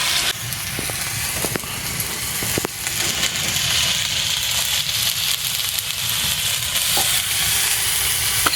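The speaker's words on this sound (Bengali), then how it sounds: "এবার এটা ভাজা হয়ে গেছে মশলাটা কষানো হয়ে গেছে" Spice paste with turmeric, chili powder and green chili paste frying in a pan for a village-style prawn malai curry, a loud steady sizzle with occasional spatula scrapes and taps.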